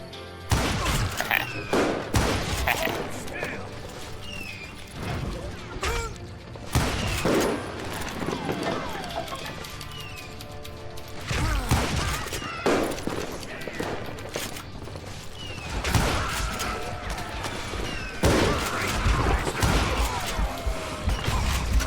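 Repeated gunfire from enemies shooting at the player in the Western video game Call of Juarez, sharp loud bursts and volleys scattered across the scene with game music and ambience underneath, and a voice talking at times.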